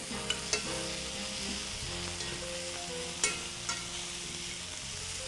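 Mushrooms frying in a pan with extra oil added, a steady bright sizzle broken by a few sharp utensil taps and clicks, with no one talking.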